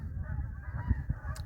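Geese honk continuously while flying on a morning in the New Jersey hills near Mount Mohican, a layered chorus of low calls over steady background rumble.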